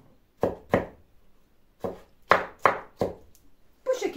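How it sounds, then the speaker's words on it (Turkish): Knife chopping tomatoes on a cutting board for a sauce, about eight crisp, distinct thuds spaced irregularly, close and clear with no talking. "Bütün domateslerimi bu şekilde doğrayıp ocağa bir koyalım."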